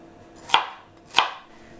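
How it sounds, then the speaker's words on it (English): Bell peppers being cut into large chunks with a knife on a board, two distinct crisp chops about two-thirds of a second apart, close and clear. "just cut them into fairly large chunks and remove the ribs"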